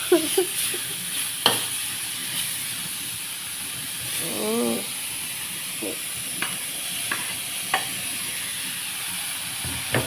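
Pad thai with pork, shrimp and Korat rice noodles stir-fried in a pan, a soft continuous sizzle broken by scraping spatula strokes and a few sharp clinks.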